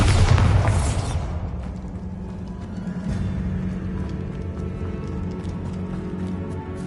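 A Bombarda explosion spell cast in Hogwarts Legacy hits with a loud, close boom at the start, then decays into a long low rumble and scattered debris crackle.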